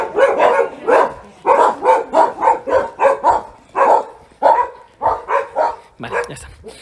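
Dogs encountered while out walking bark loudly and repeatedly in a rapid, steady series of sharp barks close by, with only brief pauses between bursts.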